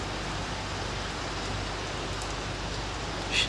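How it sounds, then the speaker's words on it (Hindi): Steady hiss of heavy rain pouring down, a dense unbroken wash of sound at moderate volume, with a brief faint chirp near the end. "बहुत तगड़ी बारिश हो गई"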